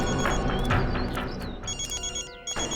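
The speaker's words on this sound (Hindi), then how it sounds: "इसी एरिया में कहीं पर फोन की घंटी सुनाई पड़ रही है।" A telephone bell rings somewhere close by during a crime-drama search, a steady, bright electronic trill at moderate volume with no voices over it.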